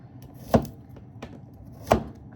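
Two crisp knife chops on a cutting board, slicing garlic cloves, spaced about a second and a half apart and close by, with faint handling noise in between.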